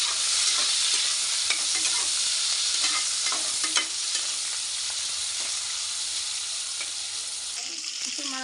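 Onion and green chilies fry in a pan with spices while being stirred for bagara rice: a steady hot sizzle runs throughout, punctuated by scraping and clinking stirring strokes from a spatula, close and fairly loud.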